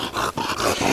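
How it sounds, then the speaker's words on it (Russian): English bulldog making close, rough growling and grumbling noises in short bursts over about a second, with no talk over them. "Ты такая бульдожина!"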